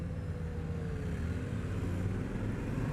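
A 2021 Yamaha Tenere 700 motorcycle running at steady riding speed, its engine producing a continuous low drone mixed with road and wind rumble, with no voices over it.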